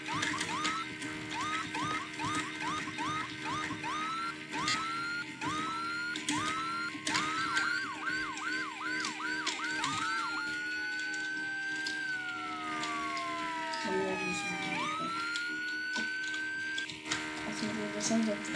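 A faint ambulance siren in a Roblox game yelps in a fast warbling pattern, then switches to long rising and falling wails over steady humming background noise.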